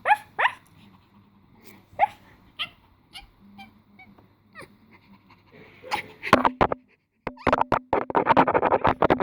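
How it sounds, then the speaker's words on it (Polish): Dogs bark in sharp, close bursts at a horse stable, at first sparse and scattered, then erupting into a rapid, loud flurry of barking toward the end. "Mamy tu oczywiście psy."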